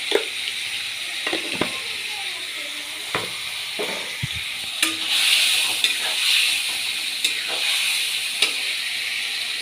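Fish curry spice paste with salt sizzles and fries in a pan while being stirred, a steady hiss broken by sharp scraping clicks of the spoon against the pan, close and fairly loud.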